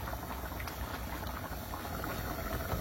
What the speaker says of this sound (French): mijote doucement mais sûrement